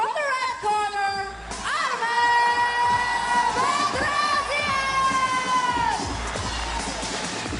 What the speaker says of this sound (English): The hometown are not all cheering.